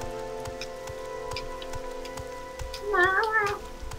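Rain falling in a coastal video game area, a steady soft patter on surfaces throughout, with a brief wavering tonal call rising near the end.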